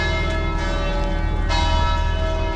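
Church bell at St Mark's Basilica in Venice rings out loud and close, a sustained bright metallic tone with overlapping resonant hum and no talk.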